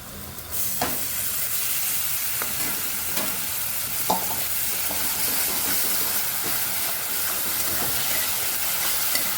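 Tomato paste fries in hot oil for a cauliflower, pea and potato curry, a loud, continuous sizzle and hiss with occasional scraping stirs of a spoon against the pan, close up and without talk.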